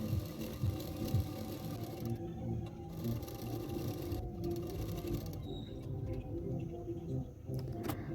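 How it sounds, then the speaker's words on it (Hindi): A sewing machine running along the edges of a blouse, joining lining fabric to the main fabric, a steady mechanical whirr with brief pauses and faint birdsong in the background. "अभी मैं अस्तर का फैब्रिक और मेन फैब्रिक दोनों फैब्रिक को एक साथ रखकर किनारे किनारे पे सिलाई करूँगी"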